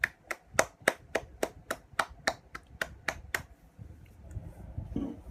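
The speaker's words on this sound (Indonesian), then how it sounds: "Kita beri aplaus untuk Dion." A classroom of high school students applauds a classmate named Dion with a short, evenly spaced run of crisp claps that fades into quiet room noise.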